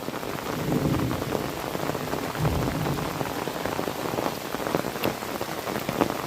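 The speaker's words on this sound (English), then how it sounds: "It's too rainy." Heavy rain pours steadily in a jungle, a dense, continuous hiss of drops on leaves and surfaces, close and loud throughout with no talking.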